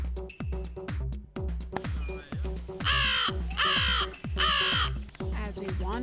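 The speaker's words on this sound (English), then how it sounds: "we came across an American crow with plenty to say" An American crow in Everglades National Park caws loudly and close, giving several hoarse calls in quick bursts over a steady rhythmic background.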